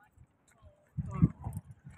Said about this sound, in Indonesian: Iya tuh ada naik kuda.